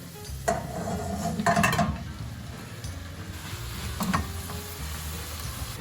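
Champignon mushrooms tipped into a pan of gently sautéed garlic and onion, giving a couple of clattering knocks and a soft stir over a low, steady sizzle.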